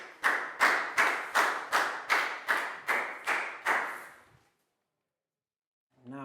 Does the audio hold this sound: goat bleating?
no